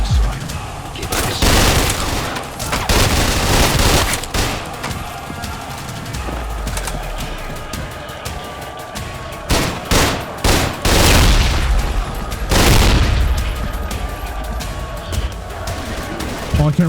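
Fire-shotgun blasts in the first-person shooter Trepang2 boom out in rapid, irregular bursts amid chaotic combat noise, loud and close, with scattered impacts between shots and no speech.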